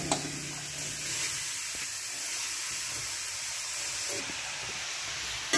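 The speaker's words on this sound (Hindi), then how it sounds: "अब इसी में डालूंगी गाजर को।" Carrots dropped into hot oil in a kadhai for gajar ka halwa, giving a steady, fairly quiet hissing sizzle that runs on continuously without talk.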